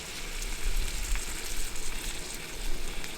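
Steaks sear in a pan over a JetBoil MiniMo camp stove, a dense continuous sizzle with small crackles and low rumbling from the burner, close up and without speech.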